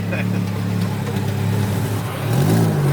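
A Honda Civic EF with a K24 engine swap accelerating on a test drive: a steady mid-pitched engine drone that climbs into a rising rev near the end, with voices talking inside the car.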